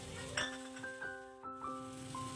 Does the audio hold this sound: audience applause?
no